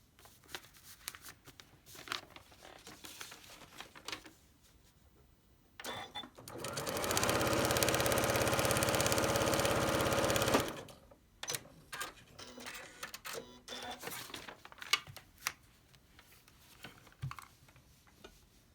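A sewing machine stitching a paper-pieced log cabin quilt block runs in one steady, loud burst of about four seconds, with quieter handling clicks and rustles of paper and fabric before and after.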